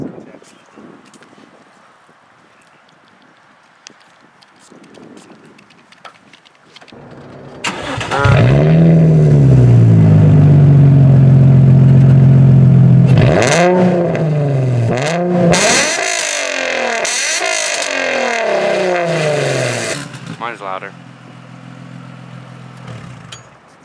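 A Nissan 350Z engine cranks, catches, and revs hard several times, loud and close, settling into a rough idle; faint voices precede it.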